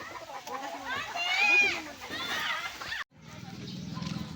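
Chickens cluck and call beside a riverbank, their calls rising and falling over nearby voices, before a brief cut to a lower, steadier murmur of birds.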